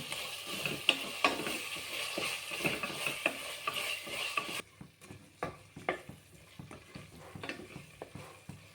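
A spoon stirs a paste in a hot pan while it fries, with a hissing sizzle that later softens to scraping, clinking strokes in an irregular rhythm, close and moderately loud.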